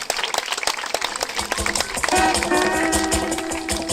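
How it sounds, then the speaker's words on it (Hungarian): Scattered clapping at a kindergarten family day cheering a children's group, uneven hand claps under a background voice, followed by a tonal melody. "Biztassuk aprókáinkat egy kis tapssal"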